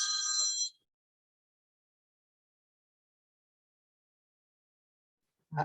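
A phone rings in one short electronic burst, then near silence follows until a brief noise at the end.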